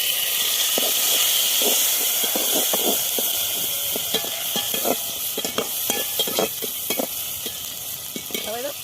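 Chopped tomato goes into frying onions with chilli powder for a Bengali cabbage, pumpkin and soya chunk ghonto, giving a loud steady sizzle with repeated stirring scrapes throughout.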